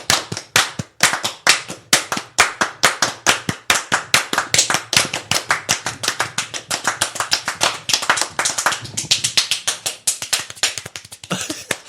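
One person claps hands steadily and briskly for about twelve seconds, sharp close slaps in a fast even rhythm with no talking.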